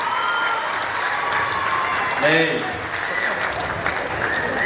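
A hall full of people claps steadily throughout, a dense wash of applause with a brief swell midway and a voice speaking over it.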